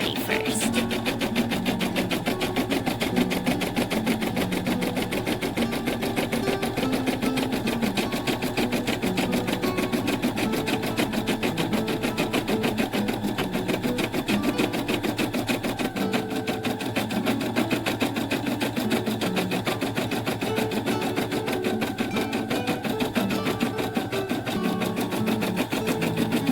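An embroidery machine runs continuously, stitching a satin border around a ninja-body design on an in-the-hoop snap tab keychain, a steady fast needle rattle with no pauses throughout.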